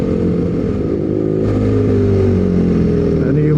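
A BMW R nineT motorcycle engine running close by, a loud continuous low drone with a slight rise in pitch partway through, steady throughout with no pauses.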